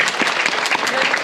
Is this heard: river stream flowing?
no